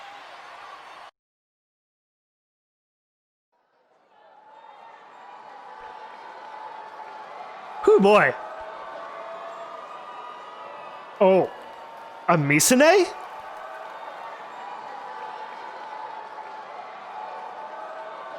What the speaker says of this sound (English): The audience is shouting and stomping to express their excitement over the thrilling grand finals match.